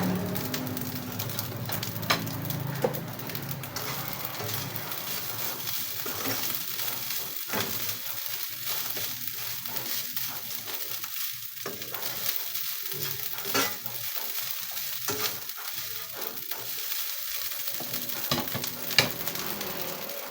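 Garlic fried rice (sinangag) being stir-fried in a pan, a continuous sizzle with scattered scrapes and clicks of the spatula, loud and close throughout.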